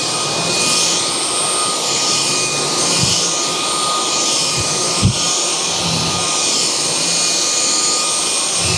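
A Gevi cordless vacuum cleaner fitted with its wand runs loud and close, a steady high whine and airy roar holding constant throughout, with a brief bump from the floor head midway and no voices.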